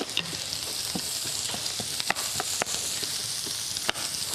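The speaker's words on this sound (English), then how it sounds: "I'm going to let that saute for just a minute or two till it gets softened" Diced small onion sautéing in butter and vegetable oil, a steady close sizzle with scattered crackles and pops, plus a few light utensil clicks, no talk.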